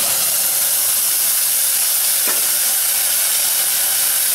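Onions and tomato paste for karunai kilangu kulambu sizzle loudly and steadily in a pan, a continuous close frying hiss with one brief stir partway through.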